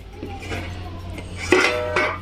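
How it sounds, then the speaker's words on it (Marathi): A metal lid settles onto a cooking pot of sweet jujubes simmering with jaggery, giving a couple of short clinks near the end over a steady low background hum. "तर याच्यावर आता मी झाकण ठेवून देते"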